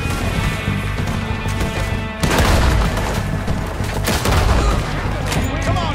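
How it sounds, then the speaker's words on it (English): Gunshots fired through a tree in Red Dead Redemption 2, loud booming reports with a heavy burst around the middle and more cracks after, over a busy game soundscape. "I bet I can shoot through this tree."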